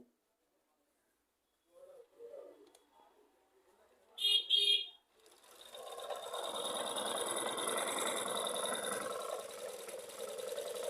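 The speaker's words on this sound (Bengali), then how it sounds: "আমি আরেকটা নতুন কাপড়ই আপনাদের সেলাই করে দেখাচ্ছি" Sewing machine stitching a fresh piece of cloth after its upper thread stitching was fixed, running steadily for several seconds as a continuous whirring drone that follows a few brief clicks and handling noises.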